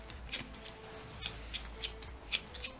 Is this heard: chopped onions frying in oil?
no